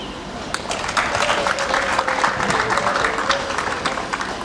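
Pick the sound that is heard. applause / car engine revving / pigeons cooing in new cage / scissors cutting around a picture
applause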